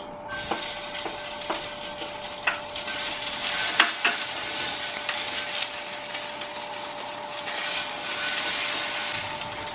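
Sheep tail fat melts in a pan for a sac tava dish, giving a steady, close, hissing sizzle with occasional crackles and spits and a faint constant hum underneath.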